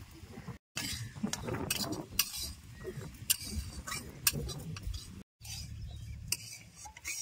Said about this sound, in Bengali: লেবুর রস আর চিনি দিয়া সুজিটা ভালো করে নাড়ে চেড়ে মিশাই নিছি